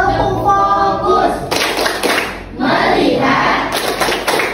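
Schoolchildren in an Indonesian classroom perform the rhythmic "tepuk fokus" clapping chant, with bursts of group hand claps and chanted voices mixed close together.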